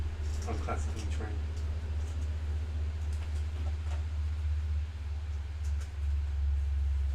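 A train passes outside during an indoor tabletop game session, heard as a continuous low rumble and drone beneath people talking nearby.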